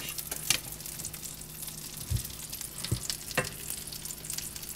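Flattened food frying in a pan, a steady quiet sizzle and bubbling close by with a few soft utensil clicks and bumps, no voices.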